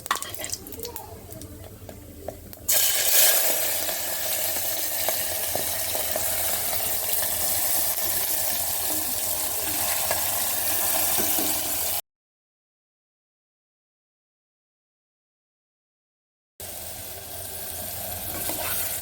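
Fennel seeds and onions are sautéed in a pan for goat leg paya, a steady hiss and crackle that swells after a quieter start, cut off by a silent gap before the sizzle returns.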